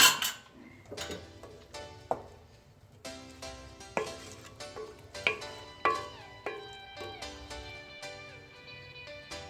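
A spoon clinks and scrapes against a metal pot while coriander is stirred into masoor dal, a series of sharp, fairly quiet knocks at an uneven pace with no talk.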